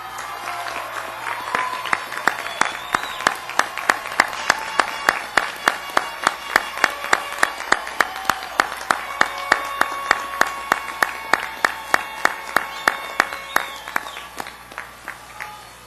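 Sustained audience applause at a 2002 College of Science commencement ceremony, parents and families clapping, with a steady rhythmic clapping pulse running through the crowd noise for about fifteen seconds before it fades.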